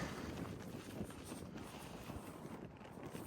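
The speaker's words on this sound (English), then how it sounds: "Bit windy here" Steady wind buffeting a microphone outdoors, a continuous low rumble with broadband gusting noise and no voices.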